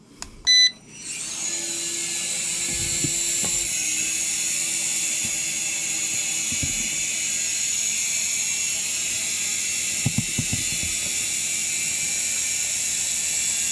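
Syma S107H altitude-hold RC helicopter spins up after a brief click, then a faint steady rotor whir continues as it lifts off and hovers, with a few small clicks and taps along the way.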